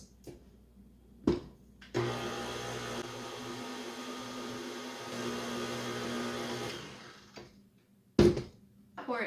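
Electric mixer whirs steadily for about five seconds while mixing cake pop batter with added flour, framed by brief clunks before and after the run.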